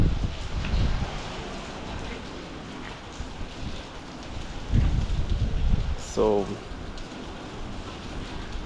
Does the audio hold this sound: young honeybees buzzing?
no